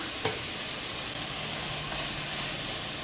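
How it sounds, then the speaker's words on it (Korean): Meat for mushroom bulgogi stir-fries in a hot pan, giving a continuous close sizzle and hiss, with a brief utensil knock near the start. "자, 고기가 반 정도 있게끔 볶아줍니다."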